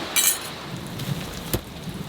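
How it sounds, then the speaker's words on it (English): Heavy rain falls steadily in the Serengeti, a constant wash of drops with a couple of brief louder splashes, heard alone with no talking. "The good news is it's raining so much there's no way it's gonna last long."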